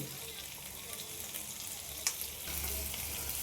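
Chicken frying in a pan, a quiet, steady sizzle with one sharp utensil tap midway, after which the frying swells into a fuller, louder hiss, heard up close without talk.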